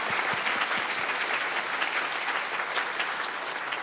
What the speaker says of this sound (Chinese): 希望大家可以给大家给工作人员一个掌声